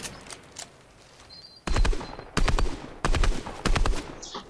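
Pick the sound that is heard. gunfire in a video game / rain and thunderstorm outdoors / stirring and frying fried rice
gunfire in a video game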